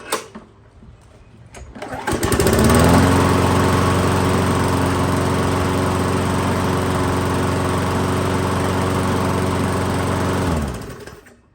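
A 2008 Weed Eater 22-inch lawn mower engine starts up and settles into a steady low-speed idle, a loud, even droning hum that runs for several seconds before cutting off.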